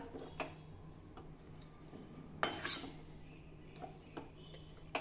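A sweet dough mixture for vadi is stirred in a pan on the stove, producing faint scraping and clinking of a utensil against metal, with a few sharper knocks over a quiet background and no talk.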